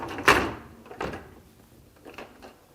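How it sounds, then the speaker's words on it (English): Lower rack of a Whirlpool dishwasher rolling out of the open tub: a quiet sequence of three short rattling scrapes of wire on plastic rails, the first strongest, with no talk. "We're going to want to remove the lower rack."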